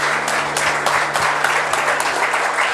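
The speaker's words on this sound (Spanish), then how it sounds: "Dar una ofrenda de palmas al Señor Jesús." Church congregation applauding together at a service, a steady dense wash of many hands clapping throughout, with a low hum beneath.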